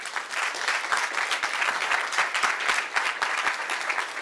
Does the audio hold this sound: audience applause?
yes